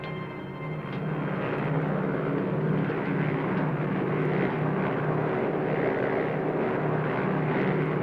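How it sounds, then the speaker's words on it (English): A lone American C-47 transport plane flies at night over hostile territory, its propeller engines giving a loud, continuous droning roar that holds steady throughout. "one lone American C-47 transport wings its way into hostile territory with a special payload"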